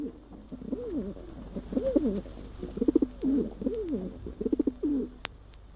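Pigeons cooing close by in a repeated series of low, throaty rolling coos, several phrases in steady succession over faint background hum, with a few soft clicks.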